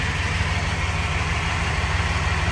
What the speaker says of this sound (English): So we got the first startup right now.